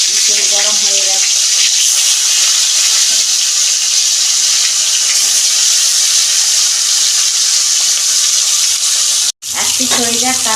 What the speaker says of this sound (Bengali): এই যে মাছটা দিয়ে দিচ্ছি, তেল গরম হয়ে গেছে।